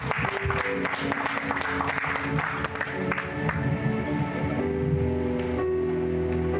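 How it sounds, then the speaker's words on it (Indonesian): A congregation at a Christmas prayer service claps along with sustained keyboard-like music. Dense clapping dominates the first few seconds, then thins out while the held musical tones continue. "Mari kita tepuk tangan buat Tuhan Yesus"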